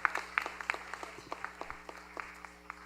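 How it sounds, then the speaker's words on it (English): An audience at a butter tart festival's best-in-show judging claps steadily, with sharp individual claps standing out over a thin, moderately distant patter that runs throughout. "Let's give a round of applause to our celebrity guest, Ben Mulroney."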